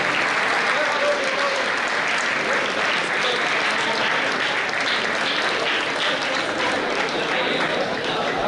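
Loud, dense applause from a large audience at a university campus festival award gala, sustained and even from start to finish with no pauses.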